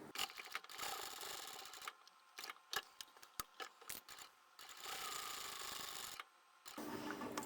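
A sewing machine stitches a crossbody satchel bag and finishes with a back stitch. Its mechanical whirring runs in short, uneven bursts broken by brief pauses, then settles into longer steady runs.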